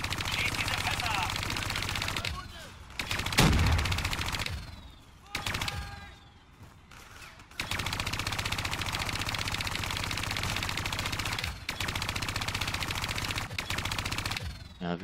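Rapid automatic gunfire rattles in long loud bursts during Call of Duty Black Ops III play while barrels are shot at, broken by a couple of short pauses and single heavier reports.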